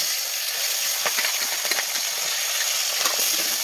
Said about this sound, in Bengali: এবার আমি একে একে মাছ দিচ্ছি।